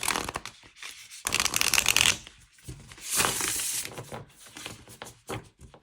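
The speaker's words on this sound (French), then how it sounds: "Pour les mélanger." A new tarot deck being shuffled by hand, with several bursts of crisp riffling and sliding cards at close range, separated by brief pauses and no talking.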